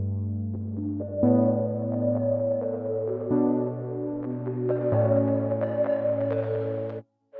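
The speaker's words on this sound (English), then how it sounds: "I added this little synth lead on top using the Alaska preset from Synergy as well" A bright synth lead from the Synergy Alaska preset steps through a simple melody over a sustained brass pad, several held notes changing every second or two before stopping abruptly near seven seconds; no voices.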